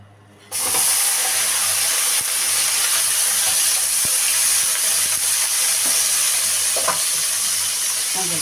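Zucchini, carrot and onion hit a hot pan after a brief quiet moment, then fry with a loud, steady sizzle and occasional clinks of stirring, close by, with no voices.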